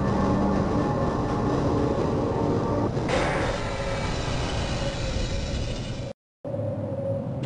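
A tram car rumbles along its track in the Half-Life video game, setting Black Mesa, a steady loud rolling drone with rattling throughout and a brief dropout near the end.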